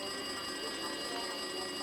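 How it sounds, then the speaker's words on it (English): A phone in the lounge of the video game Danganronpa 2 rings continuously, a steady electronic trill held at an even level with no talking over it. "It looks like that phone is ringing."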